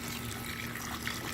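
Hose water splashes steadily onto Teeswater fleece during a rinse, a continuous close rushing spray with no pauses.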